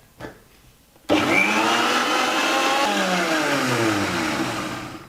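After a brief quiet moment, a kitchen mixer blender whirs to life, blending carrots with milk into carrot juice; the motor roars loud and steady, its pitch easing slightly as it runs, with no speech.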